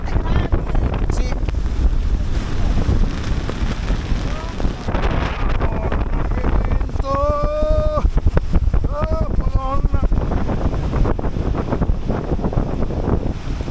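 Strong wind buffets the microphone on a bridge in Munich, a continuous loud roar and rumble that runs throughout, with people talking over it.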